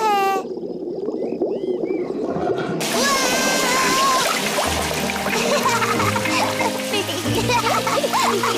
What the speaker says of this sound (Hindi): पेपा और जॉर्ज को अपना पैडलिंग पूल बहुत पसंद है।